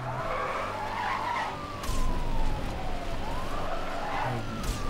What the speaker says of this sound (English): I'm drifting a bit too hard on those corners